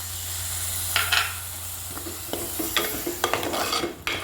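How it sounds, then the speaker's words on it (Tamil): A spoon scrapes and stirs masala with ground coconut, salt, jackfruit seeds and moringa leaves in a pan. A soft sizzle runs underneath, broken by a few sharper clinks and scrapes. "அதுவும் கூட போட்டு நல்லா மிக்ஸ் பண்ணணும்."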